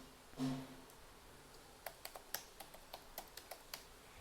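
Typing on a computer keyboard while setting up a Windows 10 account: after a brief bump, a run of about a dozen crisp, evenly spaced key taps sounds close and clear over a quiet room.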